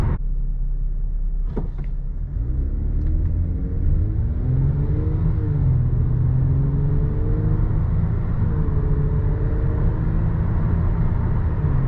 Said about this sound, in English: you could hear it a little bit when I accelerate from a dead stop